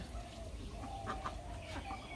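Ducks in a village at dusk give soft, scattered quacking calls, several brief notes close together over a low, steady background.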